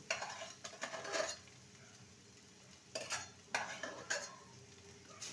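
Cooked cauliflower mash and fried onion stirred in a pan, with a few bursts of spoon scraping and clinking against the metal separated by near-silent pauses under a faint low sizzle.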